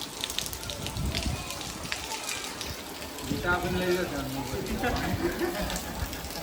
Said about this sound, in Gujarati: લાઈવ પોણી વરસાદનું